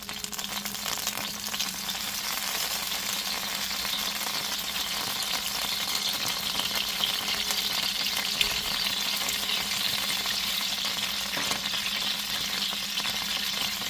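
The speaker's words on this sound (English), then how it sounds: "I'm gonna add some oil to my pot. I'm adding soy sauce." Soy sauce hits hot oil in a pot for a veggie shrimp and broccoli stir-fry, a loud, steady crackling sizzle with occasional stirring scrapes, continuous and close throughout.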